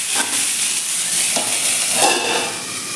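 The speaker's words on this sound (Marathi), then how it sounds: "बारीक गॅसवरती आपण ही वांगी तीन ते चार मिनिट छान अशी वाकून घेऊयात" Brinjal cooking in oil in a pan over low heat makes a loud, steady hiss and sizzle, with a few soft stirring scrapes, close up and free of speech.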